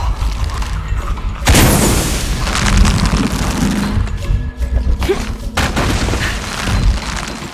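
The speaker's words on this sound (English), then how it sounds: "Have to create an explosion." A big explosion in the 2018 video game Shadow of the Tomb Raider hits with a sudden loud boom, followed by rumbling debris, crashes and thuds that continue loudly for several seconds without any talk.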